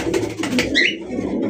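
A male pigeon coos in a short, close, resonant burst, low throaty tones rolling over about a second and a half, with no talk over it.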